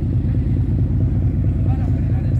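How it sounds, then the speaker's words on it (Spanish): A loud motorboat engine in a harbour with sailboats departing gives off a steady, heavy low rumble, while a person talks over it. "Una lancha de motor que hace muchísimo ruido."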